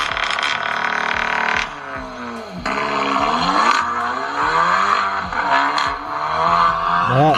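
A loud Seat Ibiza FR Sport DSG engine revs hard and then drops off, with crackling exhaust pops and bangs on each lift-off, close up and continuous.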